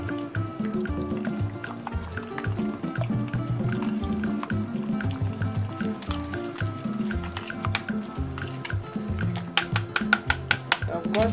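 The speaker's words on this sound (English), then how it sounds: "Just adding more water to make enough soup." Water poured steadily into a pot of goat light soup, also called goat pepper soup, on a kitchen hob, making a continuous liquid rush that ends in a run of quick drips and splashes.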